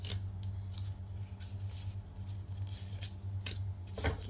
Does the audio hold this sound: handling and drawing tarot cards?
yes